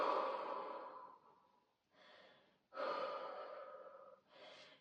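Slow, deep breaths during a full-body stretching exercise, two long exhales alternating with shorter inhales, close and clearly audible with no talking.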